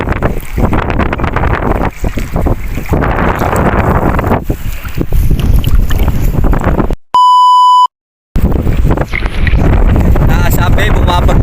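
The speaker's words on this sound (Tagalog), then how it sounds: "Bumabagyo na dito." Strong storm wind roars and buffets a microphone on a damaged fishing boat at sea, loud and gusty with waves, people talking under it and a brief censor beep midway.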